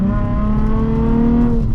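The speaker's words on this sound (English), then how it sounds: "this does have an aftermarket exhaust, but that naturally aspirated 6-cylinder sounds a lot better" Nissan 350Z naturally aspirated six-cylinder with an aftermarket exhaust, a loud steady engine drone holding a rich harmonic tone with slight rising pitch, heard close and continuous with no talking.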